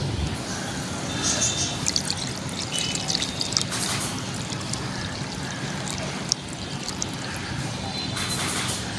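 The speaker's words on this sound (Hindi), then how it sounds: "ये मैंने फुल चिल वाटर डाल दी है" Chilled water poured into a container outdoors on a hot, sunny day, a steady close-up trickling and splashing that runs for several seconds under a faint background hiss.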